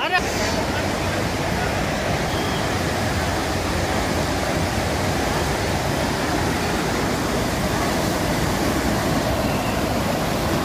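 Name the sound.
hot spring water flowing downhill, Yamunotri, Chardham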